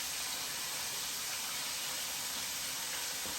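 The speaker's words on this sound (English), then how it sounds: "You can hear the sizzling." Bacon-wrapped shrimp fry in a Power XL cooker with a steady, faint hiss of hot grease sizzling, unbroken and with no voices.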